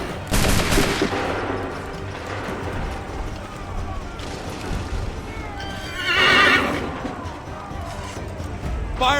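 Musket volley in Assassin's Creed III: a burst of gunfire near the start and another crackling volley later, mixed with horse whinnies, hoofbeats and shouting voices over a busy battle din.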